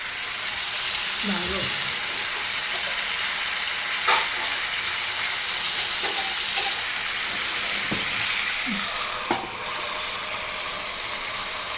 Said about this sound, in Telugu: కాసేపు టమాటోస్ మగ్గుతున్నాయి చూడండి